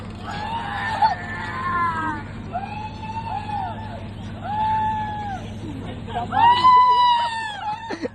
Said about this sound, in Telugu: అది భయంతో అరుస్తున్నారా?